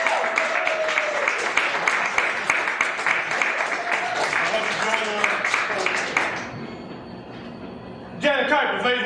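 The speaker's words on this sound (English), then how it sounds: "that's where y'all clap at right there" An audience at a Chicago poetry show claps in a dense burst of applause for about six seconds, then it fades away and a voice starts speaking near the end.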